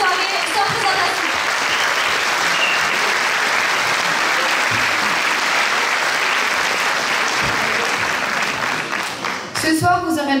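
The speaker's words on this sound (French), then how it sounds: "un petit peu d'applaudissements pour nos élèves" A school talent show audience gives students a loud, sustained round of applause. The dense clapping continues for most of the stretch, and a voice begins speaking near the end as the clapping tapers.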